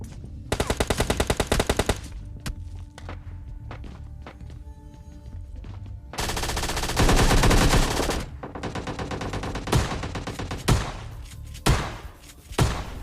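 Rapid automatic gunfire bursts from a battle royale video game, loud and close, with a long sustained burst midway and several single heavy shots and thuds toward the end.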